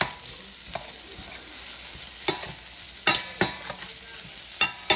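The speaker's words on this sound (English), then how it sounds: "I'm going to put two ounces of my chicken that I measured out and just kind of mix this in and heat it up a little bit with the um, peppers and onions" Chicken is stirred and heated with peppers and onions in a pan, a quiet continuous sizzle broken by several sharp scrapes and knocks of the utensil, close and without speech.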